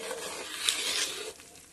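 A spoon stirs boiling rice in a pot for pulao, making a soft bubbling, wet churning sound, faint and brief, with one small clink in the middle before it fades.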